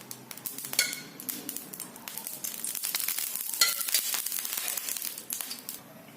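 Oil poured into a hot pan ahead of frying marinated fish, a crackling sizzle with scattered rustles and taps, fairly close and steady throughout, with no talk.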